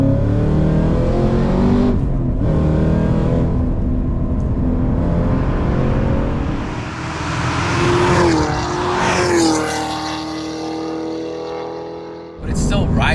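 Hennessey-tuned Cadillac CT5 Blackwing of about 1,000 horsepower accelerating hard on a street to pass a truck, its engine note climbing steadily in pitch, heard from inside the cabin under ongoing speech before cutting off abruptly.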